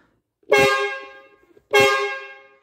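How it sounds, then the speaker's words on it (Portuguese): Two loud, blaring blasts of an air horn on a Ford Cargo 1016 truck, each about a second long, separated by a short pause. "bota no segundo estágio"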